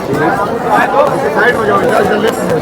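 Dense crowd chatter surrounds a walker moving through a busy crowd at the Digital Mahakumbh experience centre, many overlapping voices forming a steady, loud babble throughout.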